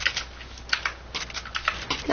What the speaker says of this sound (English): my new keyboard and mouse